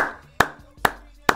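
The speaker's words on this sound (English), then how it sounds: "I need a round of applause for that." Three sharp, close hand claps spaced roughly half a second apart from a single person, with a faint voice trailing between them.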